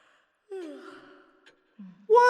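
A character yawns in The Evil Within, a drawn-out breathy exhale that trails off, then a short voiced sound and a louder vocal burst right after, close and clear over silence.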